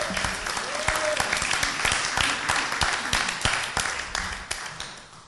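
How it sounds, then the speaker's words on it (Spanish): Church congregation applauding their God during a sermon, a full room of steady clapping with sharp claps popping out, voices calling over it, tapering slightly toward the end. "Denle un aplauso a su Dios."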